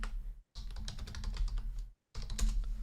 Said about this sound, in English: Riveting radio, I know, hearing me typing or whatever